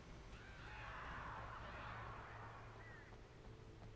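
Video-game birds attack in a flock, a continuous squawking, honking chatter close up with a brief whistling call near the end, no talk.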